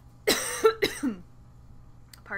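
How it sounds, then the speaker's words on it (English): A person gives a short run of three harsh coughs close to the microphone, followed by a brief throat-clearing rasp, then quiet. "Sorry for all the coughing."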